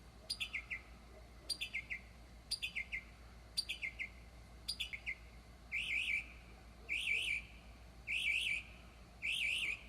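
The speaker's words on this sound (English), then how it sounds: "there's a bird out here in this tree" A bird sings from a tree outdoors at night, repeating loud, clear chirping phrases about every second, first as short descending trills and then as sustained warbling notes, over a quiet low background hum.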